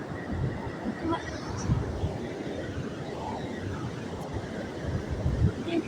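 Broadband rushing surf at a seashore with steady wind noise and swelling washes of water close by, with people talking faintly underneath.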